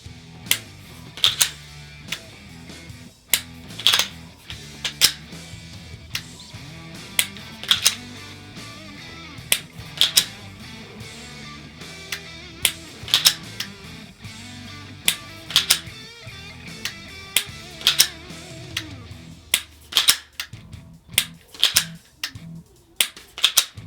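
Strikeman laser training pistol dry-firing a string of shots, sharp close clicks spaced every second or two over a quiet room background, with faint handling noise between them.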